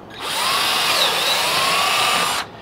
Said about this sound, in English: Try not to drill all the way through the decoy to the other side.